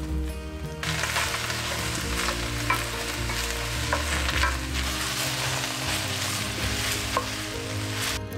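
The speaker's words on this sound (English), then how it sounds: "add in some chopped cabbage and stir fry it until the" Chopped cabbage stir-fries in hot oil in a saute pan, a loud dense sizzle that starts abruptly as the leaves go in and then holds steady, with a few scraping stirs throughout and no talking.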